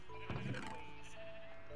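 Sheep bleating in the Minecraft video game, a couple of short nasal bleats close up over a steady bed of game music tones, with no talking.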